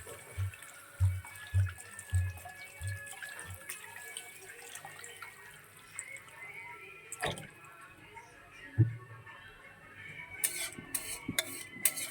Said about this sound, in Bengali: হয়ে গেছে, জল দিয়ে দিচ্ছি পরিমাণ মতো।